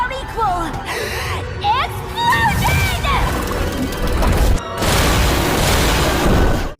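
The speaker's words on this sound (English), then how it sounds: "Explosion!" In an anime scene, a shouted, dramatic voice line gives way to a loud, roaring explosion effect that rumbles on for about two seconds before cutting off abruptly.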